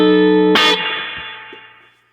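Electric guitar played through an Ampeg Gemini amp with its spring reverb on, a struck chord ringing out and decaying with a reverberant tail over about two seconds, no voices.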